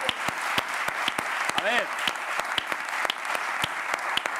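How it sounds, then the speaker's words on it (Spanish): Audience clapping in a television talk-show studio, loud and close with sharp individual claps standing out from the steady applause, while someone talks briefly over it. "un aplauso para todos"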